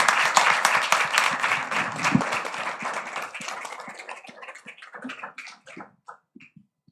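An audience at a panel event applauds with dense clapping that gradually thins out into a few scattered claps before falling silent.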